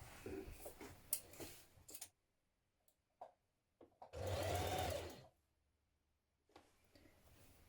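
While a top's neckline is stitched all the way around, a sewing machine gives short stop-start bursts and faint ticks, then one steadier run of about a second, near and moderately loud.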